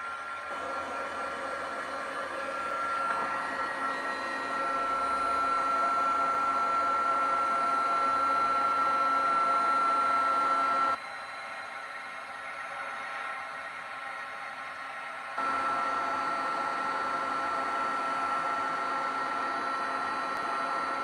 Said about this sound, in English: if you want to turn your volumes off with this obnoxious heat gun, now's the time